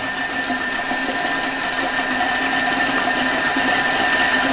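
A blender spins steadily while olive oil is slowly added, a loud, close, continuous motor whir with a constant high whine and no talking.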